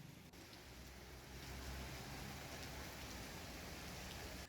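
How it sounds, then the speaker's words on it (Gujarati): Heavy rain with strong wind in Bardoli, Surat, a dense, unbroken roar of downpour that swells and stays loud throughout, with no voices. "બારડોલી સહિતનો જે વિસ્તાર છે ત્યાં ભારે પવન સાથે ધોધમાર વરસાદ પડી રહ્યો છે"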